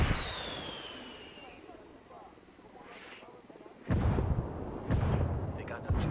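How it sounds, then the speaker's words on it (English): Indirect artillery fire called in by rebels in Ghost Recon Wildlands lands as several heavy booming blasts in the second half, following a quieter stretch with faint whooshes and distant rumble. "I called the rebels for some indirect fire."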